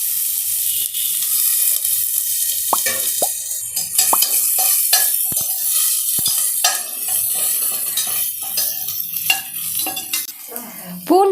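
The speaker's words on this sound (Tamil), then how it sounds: "ஸ்பைசஸ் பொரிஞ்சதும் நுணுக்கி வச்சுருக்க இந்த பூண்டை நம்ம ஆட் பண்ணிக்கலாம்." Crushed garlic tossed into hot oil with spiced fennel for mutton bone soup, a bright steady sizzle punctuated by repeated sharp spoon clicks and taps against the pan, close and loud.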